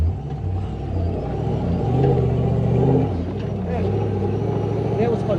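A supercharged 1UZ V8 in a 4x4 Toyota Hilux drones and rumbles steadily as it climbs a steep hill, the engine note swelling and easing, with someone talking over it.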